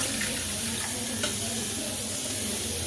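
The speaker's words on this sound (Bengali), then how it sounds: "একটু আদার বাটি ধোয়া জলটা একটু দিয়ে দিলাম" Rinse water from a ginger bowl is poured into simmering mutton curry, giving a steady, close hissing wash of liquid and sizzle that runs evenly throughout.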